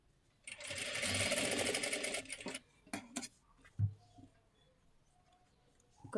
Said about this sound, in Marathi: आता इथे शिलाई देऊन घ्या, अर्धा इंच पकडा.